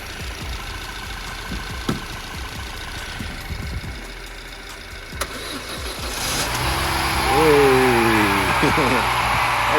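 Volkswagen Golf engine starting, then idling and pulling in, with rising revs and a clear tonal sweep near the end; people talk over the first half.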